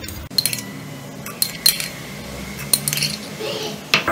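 Small pieces of chopped dates drop with light clinks and taps into a hard blender jar, a few scattered impacts close to the microphone.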